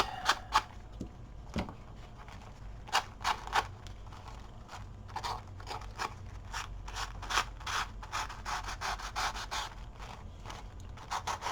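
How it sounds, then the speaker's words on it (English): Quick rhythmic scratchy strokes of sandpaper rubbing against a surface by hand, in short irregular bursts, close and fairly quiet. "Now I can do the sanding part."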